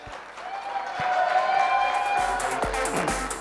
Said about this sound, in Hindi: ताली हो जाए जोरदार।